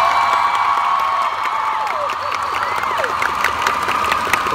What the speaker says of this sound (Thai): ขอเสียงปรบมือให้เขา